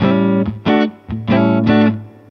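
An electric guitar from Lighthouse Instruments, fitted with single-coil pickups, plays through an amp's clean channel: several bright, sustained strummed chords ring out with short gaps between them, loud and close, the final chord fading away.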